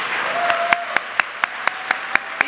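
A school audience in a New York City high school applauds steadily, a dense wash of clapping with a few sharper, louder claps standing out at a regular pace.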